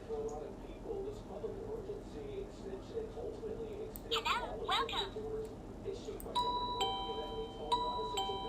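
A wireless electronic doorbell chime, Physen brand, rings out twice in bright, tonal notes near the end, following some rustling and background speech.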